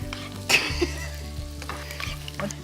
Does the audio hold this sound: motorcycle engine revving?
no